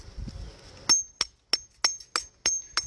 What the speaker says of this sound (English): That's why I told you, you gotta work these hammers.